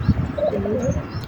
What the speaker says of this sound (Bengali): কবুতরটা অনেক শখের একটা কবুতর, অনেক ভালো কবুতর।